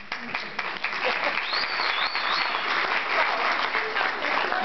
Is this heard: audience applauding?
yes